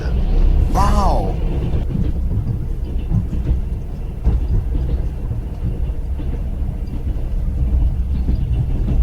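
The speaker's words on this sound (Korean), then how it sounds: "지금은 횡단열차 3일째 계속 달리고 있습니다" A Trans-Siberian train runs steadily along the rails on its third day of travel, a continuous low rumble and rattle heard from inside a carriage, with a brief voice near the start.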